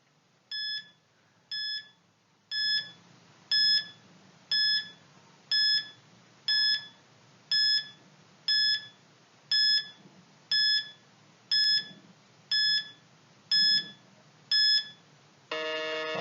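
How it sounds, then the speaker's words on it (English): Quiz countdown timer ticking out about fifteen seconds with regular bright electronic beeps once per second, ending in a quick burst of rapid tones. "You have 15 seconds to answer. Timer starts now."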